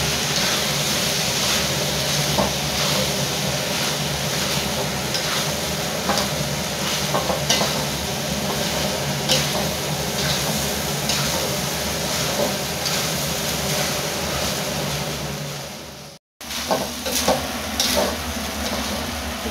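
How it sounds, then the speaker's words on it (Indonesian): White rice is stirred into squid-ink fried rice in a hot pan, a loud continuous sizzle with constant spatula scraping and tapping that runs throughout, broken only by a momentary cut near the end. "sekarang nasi putihnya masuk diaduk-aduk"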